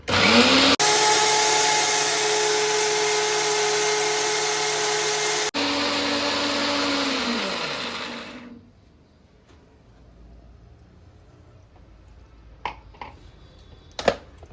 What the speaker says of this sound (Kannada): ದೋಸೆ ಹಿಟ್ಟಿನ ಹದಕ್ಕೆ ಇದನ್ನು ರುಬ್ಬಬೇಕು.